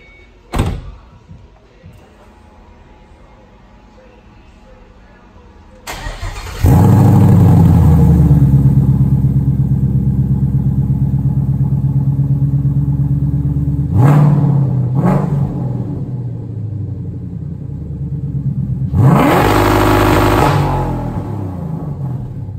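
A Coyote V8 Mustang with a simple exhaust setup fires up after a few quiet seconds, settling into a loud, deep idle near the microphone, then blipping the throttle in two sharp revs with no talking.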